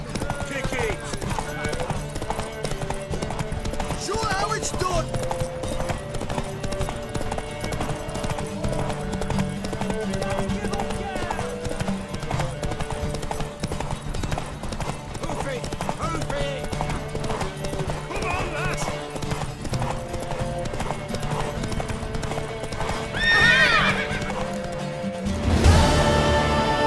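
A horse in The Witcher 3 gallops with steady clip-clopping hooves under continuous game music, and a brief louder burst near the end.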